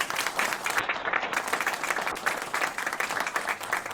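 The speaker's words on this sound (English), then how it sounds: "Let's give Chief Aziz a round of applause." Crowd applause for an outgoing police chief at a county announcement, a full, continuous round of clapping from many people in a room, holding steady throughout.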